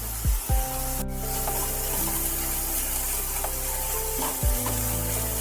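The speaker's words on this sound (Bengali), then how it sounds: "ভালো করে কিন্তু মোচাটাকে একটু নাড়িয়ে চাড়িয়ে নিতে হবে।" Banana flower with salt and turmeric is stirred in a pan with a soft, continuous sizzle and rubbing scrape. Low steady hum tones run underneath, and a sharp clink comes early on.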